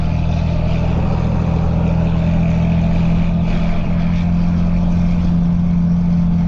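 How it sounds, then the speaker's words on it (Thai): An Isuzu FTR240 truck engine drones steadily under load while hauling a heavy container uphill, a deep continuous hum holding third gear as it climbs, loud and close with no speech. "ยังอยู่ในเกียร์สามนะครับ ยังไม่ได้เปลี่ยนเกียร์นะครับ ขึ้นกำลังมันเลย เสียงประมาณนี้"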